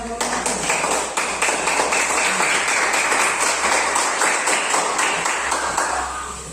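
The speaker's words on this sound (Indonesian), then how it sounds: "Ya, tepuk tangan" Students in a classroom clap together after a presentation, a loud, close burst of many hands beating in a quick, fairly even rhythm that carries on for several seconds before easing off.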